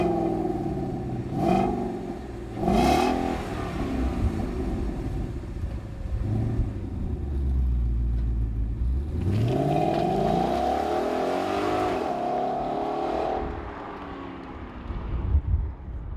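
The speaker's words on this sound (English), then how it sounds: "Getting out on the road with the Roush exhaust, the quad tips installed with the block-off plate still in, the system is pretty quiet." A 2015-2017 Mustang GT with a Roush axle-back quad-tip exhaust, block-off plates still fitted, drives on the road, its engine rising and falling through several moderate accelerations with a fairly subdued rumble.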